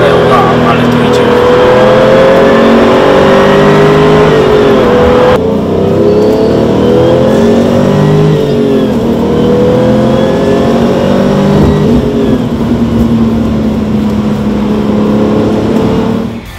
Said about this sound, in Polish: Strasznie gładko, strasznie płynnie nabiera obrotów.